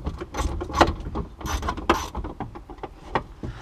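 A ratchet with a 5/16 socket undoes bolts on the dashboard binnacle of a Land Rover Defender, giving a close, uneven series of clicking, grinding turns.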